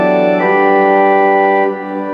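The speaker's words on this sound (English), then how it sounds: "the 4-foot pipes are sounding with the 8-foot" Pipe organ 4-foot and 8-foot stops sound together as one loud, sustained note, growing brighter and fuller a moment in, then easing slightly near the end of the brief clip.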